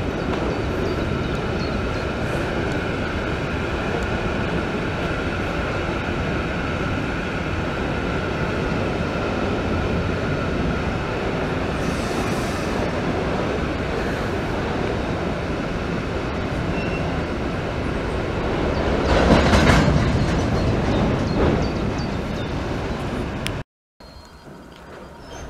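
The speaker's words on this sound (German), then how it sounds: "Ach, das ist mit den ICE hier." German ICE high-speed train passing near a hiking path, a steady broad rushing roar throughout that swells briefly near the end before cutting off.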